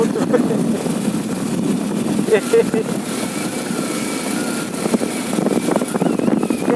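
A motorbike engine hums steadily while riding along a foggy road, a constant close drone beneath a person talking throughout.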